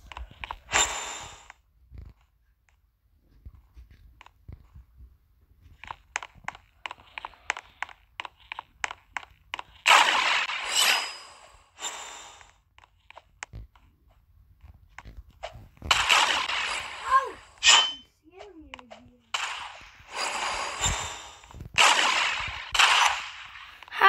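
Video game gunfire: bursts of rapid rattling shots and scattered single cracks across a match, broken by pauses and mixed with breathing and louder clustered effects toward the end.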